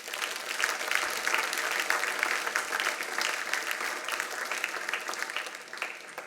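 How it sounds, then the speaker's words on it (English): Audience applause for award winners at a recognition event, a steady, dense round of clapping from a large crowd throughout, fairly even in loudness with no talk over it. "And one last round of applause for the winners tonight."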